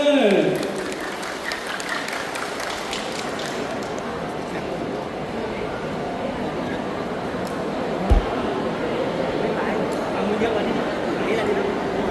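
A crowd at a birthday celebration gathering in Tha Muang, Kanchanaburi claps for a child singer, a sustained spread of hands under a busy room with voices, after a brief opening burst and one sharp low thump midway.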